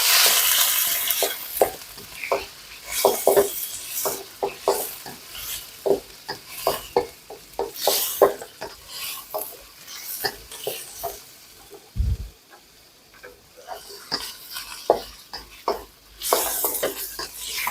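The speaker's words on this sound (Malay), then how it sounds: "Cikta akan masuk udang, sedikit ayam, sedikit sotong. Goreng." Shrimp, chicken and squid frying in a wok for Hokkien-style noodles, with loud oily sizzling and repeated scraping strokes of a metal spatula against the pan, rhythmic stirring clatter throughout.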